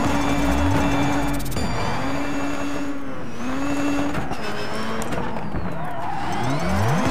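A car engine in DiRT 3 stuck in gear, droning steadily with repeated rising and falling revs, loud and continuous with no other sounds.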